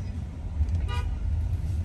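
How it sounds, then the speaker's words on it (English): A car horn gives a brief toot amid steady road traffic rumble, heard from inside or near a vehicle. "Who you honking your..."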